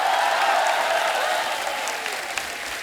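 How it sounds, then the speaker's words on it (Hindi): Audience applause fills the room as a steady, dense wash of clapping that holds evenly and tapers slightly toward the end, with no voices over it. "तालियां खुल के होनी चाहिए।"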